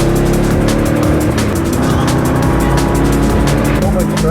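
A Corvette C6 on a race track, heard from inside the car: a loud, continuous engine drone with steady layered tones and faint rattles throughout.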